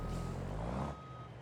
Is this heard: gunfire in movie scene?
no